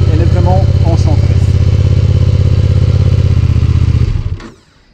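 A BMW F900R with a vertical twin engine runs loud and close with a steady, throbbing mechanical beat, then cuts off abruptly near the end.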